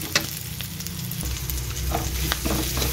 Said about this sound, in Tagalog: Ginisa na ang bawang, ay sibuyas.